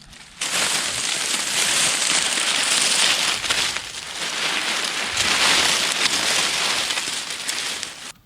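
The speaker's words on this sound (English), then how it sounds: "Ooh, that's a nice crackly sound" Dry leaves on an allotment plot in Tokyo in December crackle loudly and continuously at close range, a dense, rustling crunch that eases briefly midway before swelling again.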